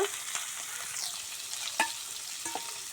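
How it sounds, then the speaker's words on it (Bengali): Koi and shing country fish frying in hot oil: a steady close sizzle with a few sharp clinks of a spatula stirring in the pan, with no voices. "মাছগুলো আমি সুন্দর করে ভেজে নেব"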